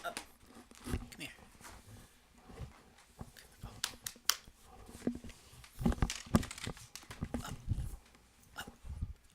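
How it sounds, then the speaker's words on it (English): A pet dog, a girl, moving around with scuffling, jingling and rustling bursts beside a person who talks warmly to her throughout. "This is my dog."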